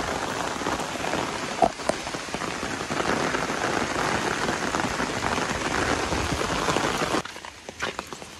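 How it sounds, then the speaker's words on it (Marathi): Heavy monsoon rain in South Goa drums hard and steady on nearby surfaces, a loud, dense patter with a few sharper drips, easing abruptly to lighter dripping in the last second. "पाऊस जोरदार चालू आहे."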